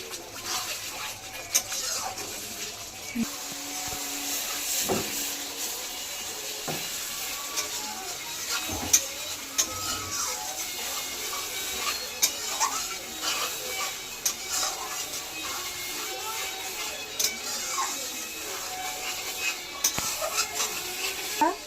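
Meat going into a pan of frying spices, with a low, steady sizzle under scattered clicks and scrapes of stirring throughout; fairly quiet, no talking.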